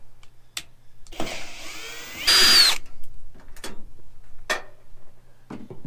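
Power drill backing screws out of a Ford Maverick XL tailgate panel: a long high whine around two seconds in, a loud burst just after, then sparse ticks and clicks of loose screws, close and with no talk.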